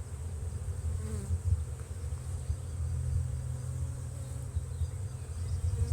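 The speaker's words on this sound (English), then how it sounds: "The nice little bees in there." Honeybees drone steadily around an overwintered hive during a brood inspection, a continuous close buzzing that stays moderately quiet with no voices over it.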